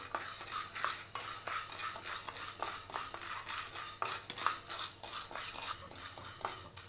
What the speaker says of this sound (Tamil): இப்போ அதே கடாயில் நம்ம கடலைப்பருப்பை போட்டு வறுக்கலாம்.